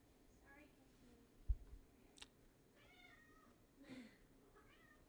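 A cat meows several times indoors, short faint chirpy calls spaced a second or so apart over a quiet background, with a thump and a click between them.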